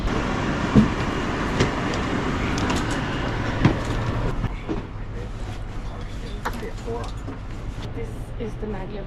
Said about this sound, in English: This is the maglev train. Still at the station.